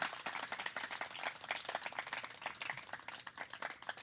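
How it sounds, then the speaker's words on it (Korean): A church congregation at a baptism and shepherd appointment service claps together, a quiet, fairly distant patter of many hands that rises and falls in uneven waves. "박수합니다."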